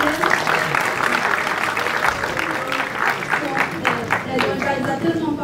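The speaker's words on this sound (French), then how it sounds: "On applaudit pour la dame, s'il vous plaît." An audience at a DevFest tech conference applauds someone speaker, a steady crowd of clapping with some voices mixed in over it.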